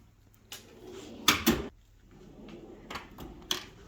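A metal drawer of a Snap-on tool chest slides open with a rattling clatter, followed by a few lighter clicks and clunks of wrenches shifting, close and fairly quiet.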